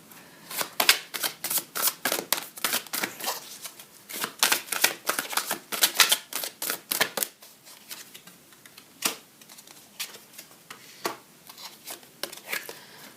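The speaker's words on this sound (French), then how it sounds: "je retourne les cartes." Tarot cards being turned over and laid down, producing a fast series of crisp, close paper flicks and snaps that come in clustered bursts and then thin out.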